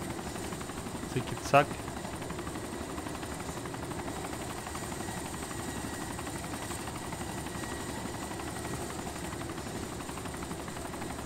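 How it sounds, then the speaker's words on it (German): A jet aircraft in the video game DayZ Origins, an ArmA 2 mod, drones in a steady engine hum with a brief click near the start, under someone talking. "Da ist ein Flugzeug, ey."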